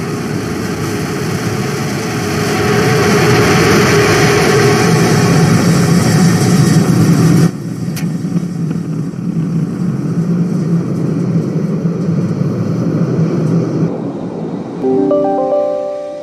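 SpaceX Starship SN15 rocket engines firing during the landing burn, a loud sustained broadband roar that shifts abruptly partway through and continues as a steady rumble with no talk.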